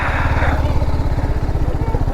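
A motorcycle engine runs close by with a steady, rapid low throb on a weekend ride near Thupilipalem Beach, loud and continuous throughout.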